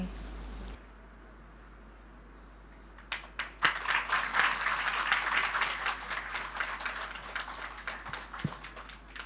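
Applause from a church congregation during a service rises after a brief quiet start and keeps going as steady, fairly close clapping with scattered sharper claps and a voice speaking under it.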